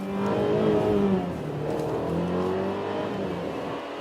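Mercedes C300 accelerating hard through the gears, a loud, steady engine note climbing in pitch, easing at a shift, then rising again, heard close from inside the car with no talk.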